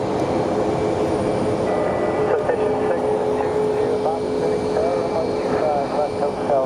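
A Boeing 777 airliner at Phoenix Sky Harbor Airport gives off a steady, loud broadband jet roar that holds constant throughout, with faint tonal whines and a radio voice talking over it.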